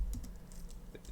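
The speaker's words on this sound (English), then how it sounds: "I am just struggling typing right now" Brief burst of computer keyboard typing during data cleaning work in Excel, a few quick clustered keystrokes, close and fairly quiet, with no talk over it.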